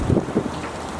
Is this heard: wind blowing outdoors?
yes